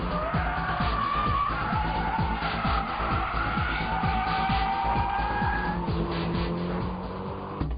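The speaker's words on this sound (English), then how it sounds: "This well-balanced S14 Silvia goes into braking drift by a light touch of braking and smooth steering work." Nissan S14 Silvia in a braking drift on a track corner: sustained tire squeal and skidding over a revving engine, fairly close and continuous, easing off near the end.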